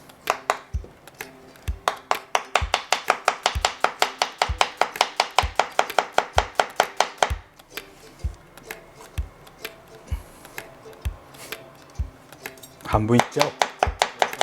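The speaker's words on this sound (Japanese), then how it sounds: "玉ねぎね、スライスしていきましょうか。" A knife slices through an onion on a cutting board in a home kitchen, cutting in a steady, rapid rhythm of close, crisp chops that pause briefly and then resume, with a short spoken remark in between.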